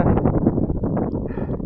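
Strong outdoor wind in Iceland buffets the microphone with a loud, low, rumbling roar that surges and dips unevenly throughout.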